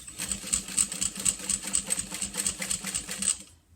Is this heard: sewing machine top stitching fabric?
yes